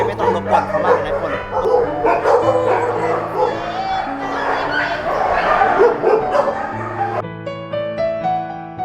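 Dogs at an animal shelter bark and yip over a dense, continuous din of many animals, with whimpers mixed in and some voices underneath, fairly loud and close throughout.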